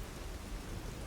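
Steady rain ambience with a continuous hiss of falling drops, even and moderately soft with no other sounds over it.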